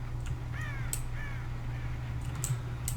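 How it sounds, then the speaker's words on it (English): Crows caw a few times in the Dead by Daylight video game, sounding fairly faint and distant over a steady low ambient hum, with no talking. "crows will appear if someone idles for too long, so keep an eye out for the crows"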